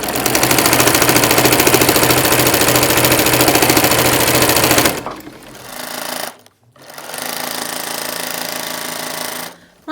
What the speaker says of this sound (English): So I'm just going to follow this line of stitching.